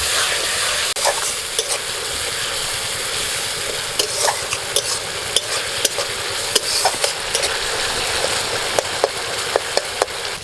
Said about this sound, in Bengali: মশলার মধ্যে অল্প একটু জল দিয়ে দিচ্ছি।